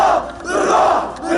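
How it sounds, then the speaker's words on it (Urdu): About a thousand protesters chant slogans in support of Hamas outside the Israeli embassy in Jordan, a dense, loud crowd roar of massed voices that swells and dips throughout. "تقریباً 1000 مظاہرین نے حماس کے حق میں پلے کارڈز اٹھا رکھے تھے اور فلسطینی مزاحمت کی حمایت میں نعرے لگا رہے تھے"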